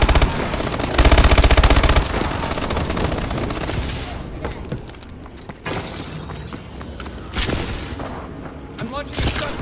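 Explosions from a friendly bombing run in Call of Duty: Advanced Warfare, with dense machine-gun bursts and booming blasts, loud and close, alongside voices and shifting battle noise.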